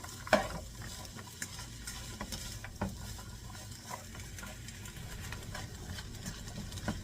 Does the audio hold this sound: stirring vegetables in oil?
yes